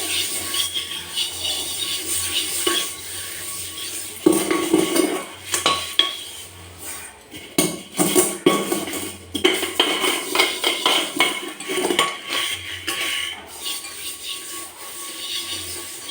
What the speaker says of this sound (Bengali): হাঁড়িটা মাজতে বেশিক্ষণ লাগবে না হাঁড়িটা এক্ষুনি মাজা হয়ে যাবে